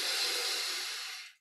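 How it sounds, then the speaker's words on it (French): A person draws one long, deep breath during a guided Kriya Yoga meditation, a smooth airy rush lasting just over a second before tapering off into silence. "On prend une grande inspiration."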